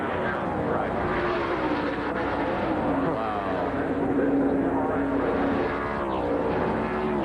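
Race car crashing into a guardrail at Watkins Glen in 1989, heard from the in-car camera: a loud, continuous roar of engine and scraping impact noise filling the whole stretch without a break.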